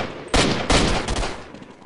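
Gunfire in Counter-Strike 1.6, two loud sharp bursts of shots close together, each trailing off into a fading rattle.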